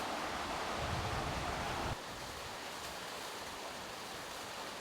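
A small waterfall in a canyon near Tamerza, Tunisia, running with little water, gives a steady broadband rush of falling water, close and constant, dropping slightly in level partway as if heard from a shifted position.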